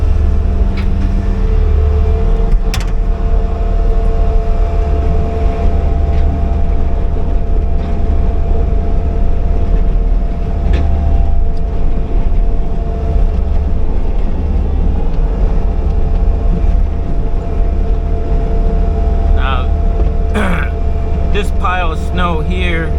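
A Bobcat T595 skid steer loader plowing snow along a curb past a parked car, its engine droning loud and steady throughout, with brief clanks near the end and a voice talking over it.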